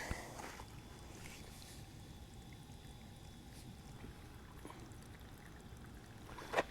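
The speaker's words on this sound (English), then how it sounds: "Let's go ahead and flush out the junk from this water line while we got the water running." Water runs steadily through a greenhouse water line being flushed of debris, a continuous soft rushing flow with a faint splash near the end and no talking.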